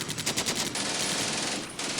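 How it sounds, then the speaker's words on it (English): Machine-gun fire in the WWII strategy game Combat Mission: Beyond Overlord: a dense, continuous rattle of rapid bursts, loud and sustained for two seconds, with a brief dip near the end and no talking. "I think he will automatically start firing here"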